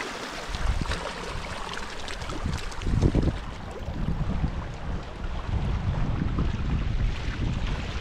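Fishing boats out on the sea, heard as a steady rumble mixed with heavy wind buffeting the microphone and the wash of waves, with no talk.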